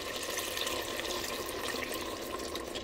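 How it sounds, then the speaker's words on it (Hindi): Two cups of water poured into a pot of beef korma after the meat is browned, a steady, close splashing rush that runs unbroken throughout with no talk over it. "अब मैं इसमें ऐड करूँगी 2 कप पानी।"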